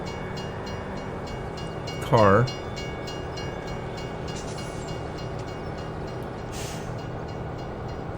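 Steady rumbling train noise from Farming Simulator 17 on the Saxonia map, with a continuous rolling drone throughout and a brief spoken word near the start.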